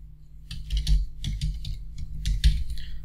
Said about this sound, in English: So I'm typing my email and password.